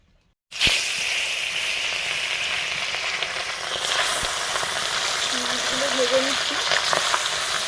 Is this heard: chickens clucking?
no